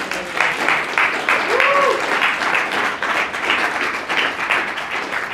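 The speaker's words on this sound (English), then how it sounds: "round of applause for Matt" A room full of seminar attendees claps steadily in a broad wash of applause, moderately loud with slight swells, a brief tonal whistle sounding partway through.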